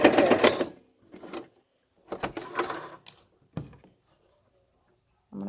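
A sewing machine stitches a fabric mask with back stitches, giving short close bursts of rapid mechanical whirring separated by quiet gaps, with no talk.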